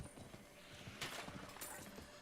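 Horse hooves clopping in the video game Diablo IV as a rider passes through: a quick, quiet, rhythmic run of soft clops lasting a couple of seconds.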